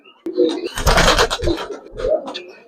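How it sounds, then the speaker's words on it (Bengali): Giribaz silver racer pigeons cooing in a loft, several low throaty coos rising and falling close by, with a sharp knock near the start and a brief burst of broadband rustling or flapping in the middle. "সুন্দর সুন্দর কবুতর দেখতে পাবেন আছে"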